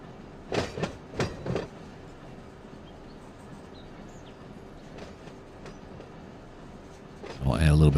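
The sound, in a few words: train coasting on rails in Run 8 Train Simulator video game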